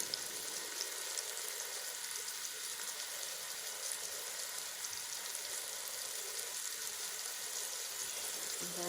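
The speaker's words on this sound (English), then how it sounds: "once it's had time to sizzle a bit, let's turn it over" Steady, close sizzling of herb-crusted chicken breast sauteing in a hot Ninja Foodi pan, a constant crackling hiss throughout with faint stirring noises and no talking.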